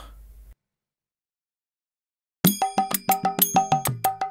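A phone rings in a repeated bell-like melodic tone, loud and close, starting after a brief low hum and a stretch of silence, with no talk over it.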